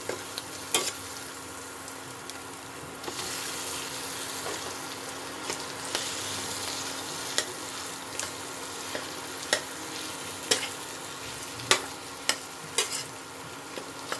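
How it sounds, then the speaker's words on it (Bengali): Boiled potatoes fry in spice-coated oil with soybeans for begun pakora, a continuous close sizzle punctuated by regular sharp scrapes and taps of a spatula stirring the pan, with no voices. "মশলাটা ভাজা হয়ে গেছে, এর মধ্যে আমি এখন এই সেদ্ধ করা আলুটা দিয়ে দেবো।"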